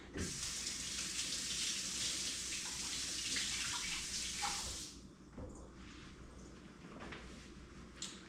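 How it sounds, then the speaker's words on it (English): Running water from a kitchen faucet splashes over hands during a scratch-made cinnamon roll bake, a loud steady gush that cuts off partway, leaving quieter handling sounds and small clunks. "Let me rinse my hands real quick."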